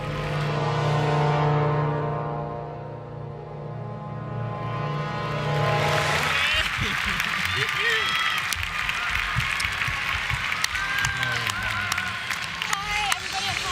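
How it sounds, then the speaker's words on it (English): At the 2016 U.S. figure skating nationals, an arena crowd bursts into broad, sustained applause for the ice rink sweepers, coming in after a stretch of steady tonal sound from the building and continuing loudly to the end. "a nice round of applause for our sweepers"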